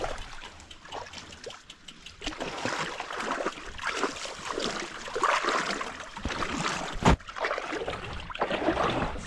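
Water splashes and trickles steadily as bikepackers wade their bikes through a shallow, knee-deep creek, the sloshing close and continuous, with brief voices in the background.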